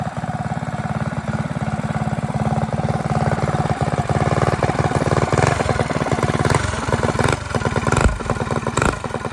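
A stage 3 Predator 212 engine on a Manco Dingo go-kart runs close and loud, with a steady rapid single-cylinder putter and small throttle wobbles throughout.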